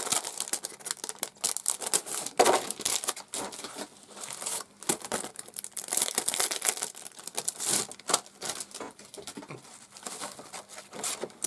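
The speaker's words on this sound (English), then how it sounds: "I'm just going to take these out of the packet." Craft die pieces being pulled from a plastic packet during a craft kit unboxing, giving a steady run of close crinkling, rustling and tearing plastic with sharp bursts, no talking.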